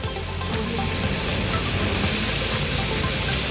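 A smashed burger patty of 80-20 ground beef sizzles loudly on a hot grill, a dense, steady hiss and crackle close up with no talk over it.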